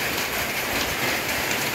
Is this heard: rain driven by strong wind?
yes